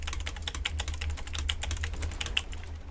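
Fast, continuous typing on a computer keyboard, close and crisp, with dense overlapping keystrokes and a low steady hum underneath.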